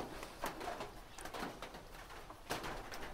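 Pigeons coo faintly while eating their feed, low soft cooing with a few brief louder knocks, heard at a modest distance without any talk.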